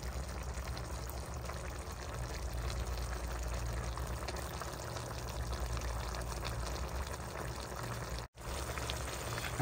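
Water poured into a cooking pot of squash sends up a steady, full rush of splashing and bubbling liquid, close and continuous with one brief break near the end.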